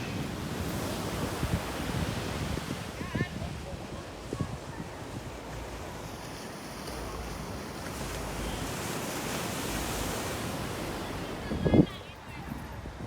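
Steady surf and wind rush along the beach at Carlisle Bay, Barbados, a continuous wash of waves with gusty microphone wind noise and a brief knock near the end.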